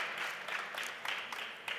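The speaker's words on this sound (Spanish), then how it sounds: "Un aplauso, por favor, para Alex," Audience applause at a public talk in Spain welcoming three panelists, a soft, even wash of clapping heard from a distance, quiet and steady for a short moment with no voices over it.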